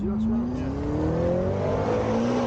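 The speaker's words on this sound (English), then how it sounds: "This McLaren's having another go." A McLaren sports car revving during a straight-line run at Sturgate. A strong, close engine tone climbs steadily in pitch over a constant road roar, and a voice can be heard at the start.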